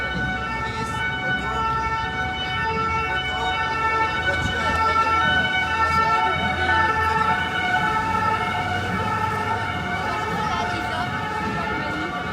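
Wailing emergency sirens sound continuously over busy street noise on rue Saint-Antoine in Paris during demonstrations, loud and close, with traffic rumbling underneath and a crowd murmuring in the background.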